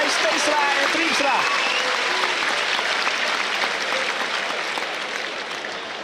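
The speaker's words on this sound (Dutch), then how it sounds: "het juichen bij Steenstra en Triemstra" At a kaatsen match in Franeker, a crowd cheers and applauds in a dense, loud roar that holds steady and slowly eases off, with a commentator talking over it.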